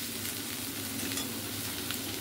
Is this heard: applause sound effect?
no